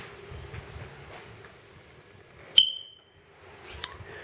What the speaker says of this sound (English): Smoke detectors, as you can tell.